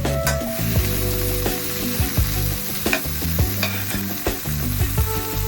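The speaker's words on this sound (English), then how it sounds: "I'm adding my bell peppers" Frozen bell peppers hit a hot pan with leeks, cabbage and ground chicken, sizzling loudly and steadily while a utensil scrapes and taps against the pan in short irregular strokes.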